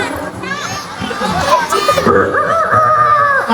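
At a storytelling event in Bima, Indonesia, a crowd of young voices shrieks high, wavering clucking and crowing cries together, loud and continuous, like children mimicking chickens.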